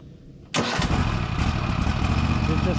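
A Toro TimeCutter 60-inch zero-turn mower with a Kohler engine cranks and fires abruptly, then settles into a loud, steady, close-up rumble after the choke is used.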